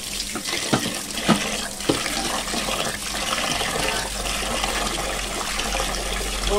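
Water runs steadily from a tap while fish are washed in a sink. The flow is close and continuous, with a few splashes and knocks early on and no talking.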